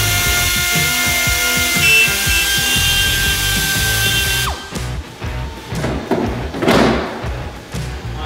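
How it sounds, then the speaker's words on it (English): A Dremel grinds loudly and steadily into the return flange of a JBA Dominator GTC wide body kit, then winds down and gives way to quieter scraping and rubbing sounds. "you can see we marked this already where we're gonna have to dremel this out."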